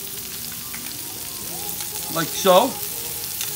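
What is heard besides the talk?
butter and wine sizzling in a hot pan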